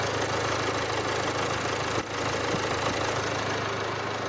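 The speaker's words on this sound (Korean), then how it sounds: "저도 일단 엔진 소음을 먼저 들려드리면은" An imported SUV's engine idles steadily at close range, giving off a constant low rumble with a faint mechanical ticking and no other sounds.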